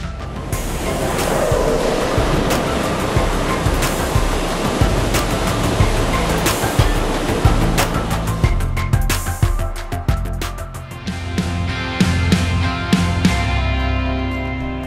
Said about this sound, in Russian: вот сейчас слышали удар, то есть он по инерции катится по путям и упирается в забашмаченные вагоны